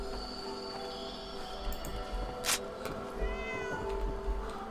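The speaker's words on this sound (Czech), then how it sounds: "Teda vypadá to jako kočka, ale divně animovaná." Cat meowing in Fallout 4 Far Harbor, a few distinct meows over steady game ambience and soft background music, with no talk.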